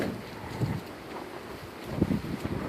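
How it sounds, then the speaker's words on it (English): Strong gusting wind of around 55 mph buffeting the microphone outdoors by a homemade greenhouse, a steady rumbling roar that swells into louder bursts near the start and again toward the end. "We got 55 mile per hour winds today, gusts"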